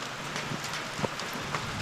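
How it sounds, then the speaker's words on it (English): Rain falling steadily outdoors at a shed being converted to a cabin, a dense broadband hiss with scattered close drop impacts, moderate and continuous with no talk. "Rain's really starting to come down now."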